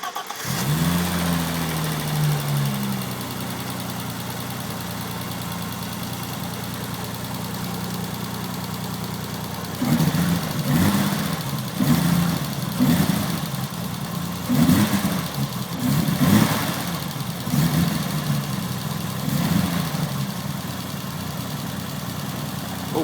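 BMW E30 race car engine cold-starting after sitting for days: a brief starter crank, then a loud, close idle that stutters and pulses unevenly, with rough surging bursts in the second half, and no talking.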